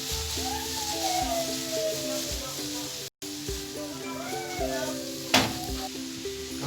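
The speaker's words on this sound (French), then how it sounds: "il faut faire frire les oignons" Onions frying in a pan for a thyme veal roast, with a steady bright sizzle close by under tonal background sounds, a brief break midway and one sharp crackle near the end.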